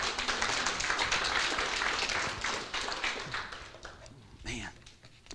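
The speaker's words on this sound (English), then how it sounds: "Give the Lord a hand clap." A church congregation clapping hands in praise, a sustained burst of many hands that fades out after a few seconds, mixed with voices and some talking.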